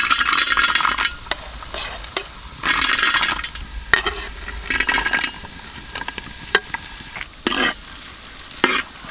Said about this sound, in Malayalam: നമുക്ക് ആദ്യം കുറച്ച് കശുവണ്ടി അങ്ങ് ഇട്ട് കൊടുക്കാം.